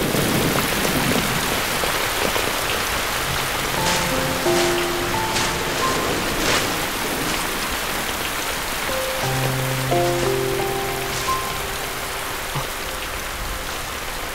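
Steady rain falls throughout, a dense even hiss of drops on surfaces, while soft music plays faintly underneath.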